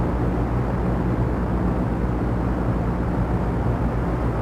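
A small training plane's engine in a flight-school simulator drones steadily and loudly throughout, an even, unbroken rumble with no pauses or voices.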